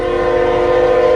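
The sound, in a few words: Union Pacific westbound freight train passing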